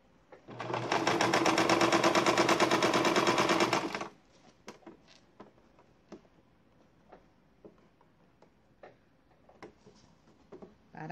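A sewing machine stitches a foam cover in a loud, rapid, continuous run lasting about three seconds, then stops and is followed by scattered light clicks and handling ticks.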